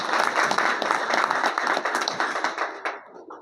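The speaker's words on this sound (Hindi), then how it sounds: "एक बार जोरदार ताली बजा के उनका हक" Audience applause honouring journalists at a public gathering: a burst of many hands clapping, strong at first, then thinning out and fading away over a few seconds.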